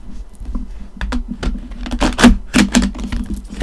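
Tarot cards being shuffled by hand in a series of quick papery riffles and taps, close and fairly loud, with no talking.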